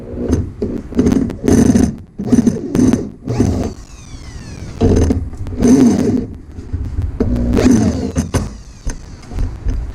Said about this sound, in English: that'll make these screws go in a lot easier